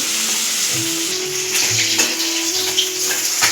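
Puti fish sizzling in hot oil in a kadai, a steady, dense crackle and hiss that runs unbroken throughout with no talking.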